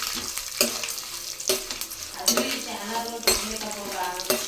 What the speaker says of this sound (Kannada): ಒಣಮೆಣಸಿಗೆ ಕರಿಬೇವಿನ ಸೊಪ್ಪು ಹಾಕಿ ಫ್ರೈ ಮಾಡ್ತಾಯಿದ್ದೀನಿ.